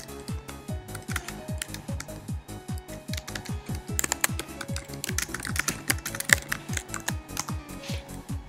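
Typing on a computer keyboard, a fast, steady patter of close key clicks with a few heavier strokes, continuing without pause and with no voice.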